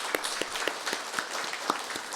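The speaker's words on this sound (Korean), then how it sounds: "우리 모든 분들 축하하는 뜻으로 박수 한번 하겠습니다." A church congregation at a Sunday morning service claps together in welcome, a brief patter of applause with a few sharp individual claps, moderately quiet and even.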